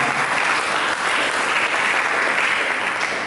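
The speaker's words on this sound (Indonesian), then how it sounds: "Mari kita berikan tepuk tangan bagi Dia." A church congregation gives a sustained round of applause during a sermon, a dense, even wash of clapping that stays loud and unbroken throughout.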